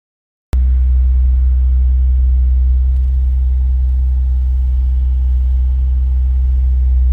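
Tuned 2007 Nissan 350Z Nismo engine running on a dyno, a loud, steady low engine drone that starts abruptly and holds constant, close and alone with no talk.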